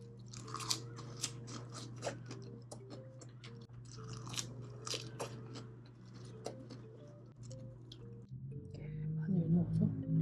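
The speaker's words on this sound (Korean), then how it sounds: "고기 한 입 먹어볼까?" Close, quiet chewing of a bite of seasoned pork at a home meal, with repeated soft crunchy bites in an irregular rhythm and a low steady hum underneath.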